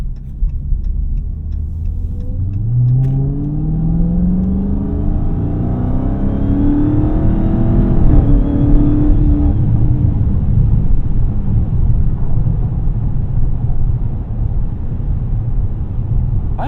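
A 2023 Dodge Charger SRT Hellcat Jailbreak widebody with 717 horsepower accelerates hard, its engine note climbing steadily through the gears as a loud, continuous rumble heard from inside the car.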